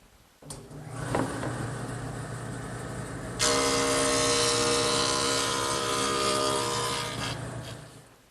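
A woodworking jointer planes the top edge of a wooden headboard, its motor humming before a louder, sustained cutting roar takes over for several seconds and then winds down, close and without talk.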